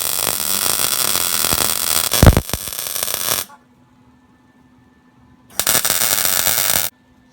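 Tack welds on steel laid on a Certa flat welding table, heard as two loud bursts of crackling arc noise, the first about three seconds long and the second shorter after a quiet gap with faint hum.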